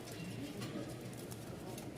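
Soft pigeon cooing, faint and low, over a steady background hum.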